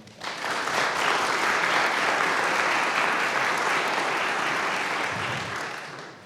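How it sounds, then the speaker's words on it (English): Applause from the audience at an Eagle Scout Court of Honor, a loud, full burst of many hands that swells quickly, holds steady and fades out near the end. "can I get a round of applause for Mr. Snyder?"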